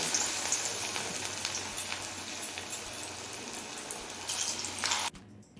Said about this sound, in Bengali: একই রকমভাবে বাকি বড়াগুলো ভেজে নেব